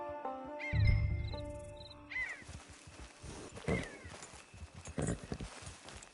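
A horse snorts and shifts close by, with hooves clopping softly on the ground and birds calling faintly in the open air.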